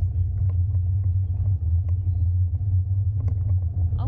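A scooter riding along a forest road, carrying a steady, loud low engine rumble with road noise and no pauses.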